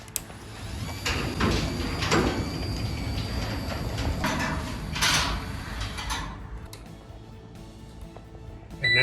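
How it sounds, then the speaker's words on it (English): A Linear 861 garage door operator drives the door to its down position, a steady mechanical rumble and rattle of the door travelling for about six seconds before it stops and the room falls quieter. "Now we're going to run the door to the down position"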